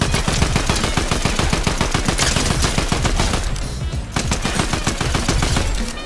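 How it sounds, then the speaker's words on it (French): Rapid automatic gunfire from the video game Fortnite, loud and close, with dense bursts of shots running almost continuously and only a brief dip in the middle. "Mec, tes balles partent sur lui carrément."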